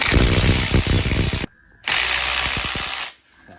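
A new nut is run onto Ford BA Falcon suspension with a power tool, giving two loud, close bursts of rapid rattling impact hammering separated by a short silent gap.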